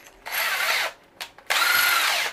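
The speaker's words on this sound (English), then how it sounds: "I'm going to go ahead and drill out my 1/4-inch holes." A power drill boring 1/4-inch holes into a metal ammo box, two loud sustained whining bursts of drilling separated by a brief pause with a short blip, close up and with no talk.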